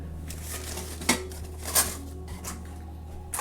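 Camping dishes for a canoe trip (plate, bowl, two cups and silverware) are handled close by, giving a couple of sharp clinks and light clatter over a low steady background hum.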